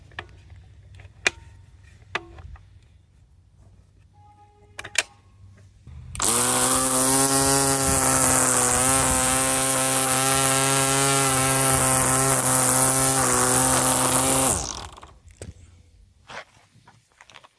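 A lightweight MZK cordless string trimmer, head tilted for edging, whirs loudly and steadily for about eight seconds, a high whining buzz with the line slapping grass, preceded and followed by quiet rustling and footsteps.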